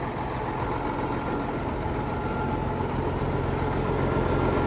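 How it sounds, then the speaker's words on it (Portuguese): A truck engine idles steadily and smoothly, a low even rumble with no breaks, close and moderately loud. "Olha aí que caminhão liso de funcionamento."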